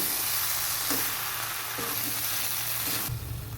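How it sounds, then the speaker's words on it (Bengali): Flour batter stirred into mulo saag, radish greens, in a pan, a steady close frying sizzle with soft scraping stir strokes, ending in an abrupt cut. "ভালো মতো নেড়ে নিচ্ছি"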